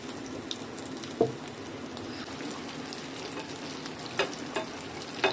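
Kesari bujji bonda balls dipped in batter sizzle and crackle steadily in hot frying oil, with a few sharper pops and spatters rising above the constant bubbling hiss.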